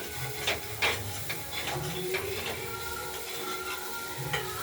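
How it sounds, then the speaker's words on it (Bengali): Chopped cauliflower and peas fry in oil in a kadai, giving a soft steady sizzle broken by repeated scraping and knocks of a spatula stirring, close and fairly quiet. "ভাজা ভাজা হচ্ছে, একটু লেগে লেগেও যাচ্ছে কড়াইতে,"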